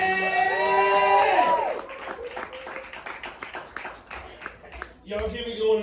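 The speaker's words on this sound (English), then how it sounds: "Y'all give me a round of applause for Zach" An audience at a comedy open mic cheers, whoops and applauds loudly, then fades while a host talks over the crowd, with a brief renewed burst of cheering at the end.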